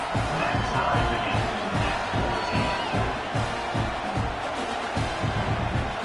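A football stadium crowd cheers and roars after a touchdown as a broad, continuous wash of noise, with a commentator's voice running over it.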